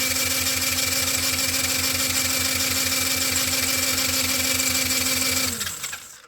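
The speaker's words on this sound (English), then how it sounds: "let's watch this thing crank. The spark plug is not in currently." A quad's engine cranks over with the spark plug removed, a fast, even chugging rhythm running steady and loud for about five seconds before winding down and stopping.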